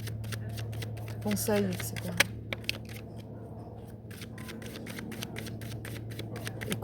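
Cards being shuffled and drawn for a reading, a rapid run of crisp flicks and snaps throughout, with someone speaking briefly in the opening seconds.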